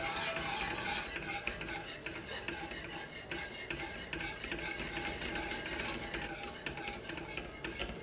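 A spoon stirs a semolina muscat mixture in a pot, giving continuous scraping and rasping for several seconds, close but fairly quiet, with no voices.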